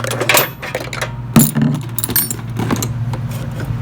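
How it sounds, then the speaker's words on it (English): Metal bolts are fitted back into the worn pull starter of an old lawn mower, making close, sharp metallic clinks and rattles over a steady low hum. "Put our bolts back in place."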